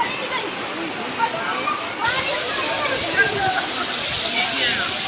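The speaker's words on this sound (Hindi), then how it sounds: "ये देखो कितनी प्रेशर से पानी चल रहा है भाई।" Floodwater rushing hard along a main road in Yousuf Goth, Karachi, after under an hour of heavy rain, a steady broadband roar with occasional splashes, close and continuous throughout.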